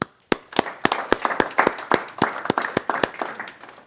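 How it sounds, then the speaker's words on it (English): A small group claps for Football Victoria at a state football legends visit, a sparse, uneven scatter of sharp individual claps after a brief silence, fairly close and clear. "So I think Football Victoria deserves a round of applause and some praise for their part in this"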